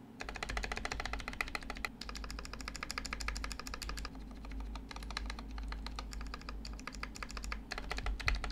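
Fast, continuous typing on a modded budget $50 mechanical keyboard, dense overlapping keystrokes clacking up close with only brief pauses, over a faint low hum.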